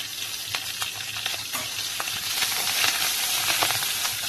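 Garlic and home-grown curry leaves fry in oil for a dal tempering, giving a dense close sizzle with sharp pops and crackles that grows slightly louder over a few seconds.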